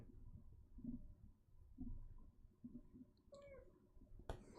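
A pet cat meows a few times, faint and close, with soft low rumbling noise between the calls and a sharp knock near the end.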